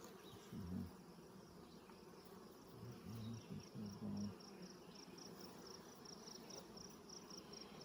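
A steady, continuous buzz of honeybees at a hive on a sunny day in Ontario, many bees droning together, with a few louder low hums passing close by.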